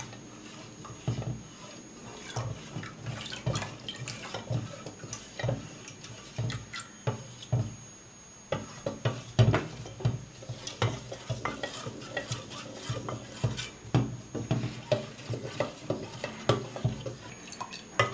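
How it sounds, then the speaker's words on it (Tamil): Caustic lye being stirred into oil for homemade moisturizing soap, with a utensil scraping and clinking against the container in a steady, uneven rhythm at close range, and no one talking. "காஸ்டிக் லையை ஆயிலில் மிக்ஸ் பண்ணி கொஞ்சம் கொஞ்சமாக மிக்ஸ் பண்ணி நல்லா கலக்கிக்கலாம்"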